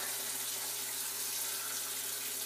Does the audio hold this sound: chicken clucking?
no